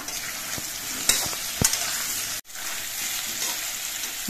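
Pumpkin pieces fry in a pan, a steady soft sizzle broken by a few sharp stirring scrapes and clacks. A brief dip to near silence falls midway before the frying resumes, with no one speaking.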